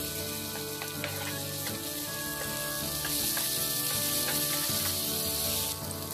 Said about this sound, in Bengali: এবার দিয়ে দিলাম আদা রসুন বাটাটা।